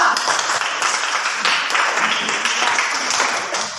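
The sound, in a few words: class applauding a student group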